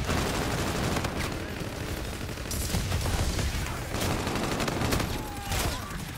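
Continuous gunfire and explosions in a first-person shooter video game, a dense unbroken wash of shots and booms throughout with no pauses.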